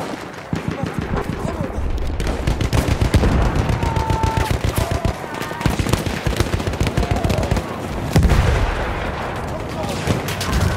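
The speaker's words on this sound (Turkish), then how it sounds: "Makinalı tüfek, düşman!" Rapid machine gun fire in Battlefield 1 rattles on in dense, steady bursts for the whole stretch, mixed with heavier booms of battlefield combat, with a voice briefly heard under the shooting.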